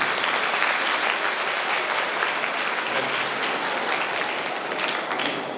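Audience applause during a university vice-chancellor's speech, a dense, even burst of many hands clapping held steadily at close range with a slight fade toward the end.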